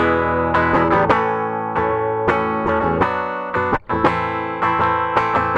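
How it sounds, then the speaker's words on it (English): A clean, dry electric guitar plays a short riff of plucked notes and chords, thin and unamplified in tone, with no voices. "after recording your guitar into it is just a raw audio file,"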